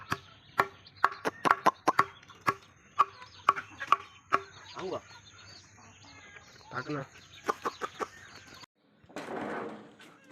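Backyard village hens cluck and peck as spoiled vegetable waste from the market is tossed to them, with sharp close taps and clucks in an irregular run and a brief low voice near the end.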